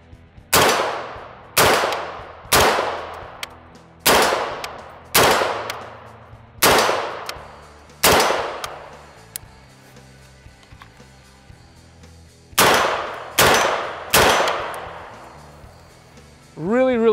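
A Nodak AR-180B 5.56 piston rifle fires about ten loud, close single shots, each cracking sharply and ringing out, paced in a steady rhythm with a short pause before a final few rounds.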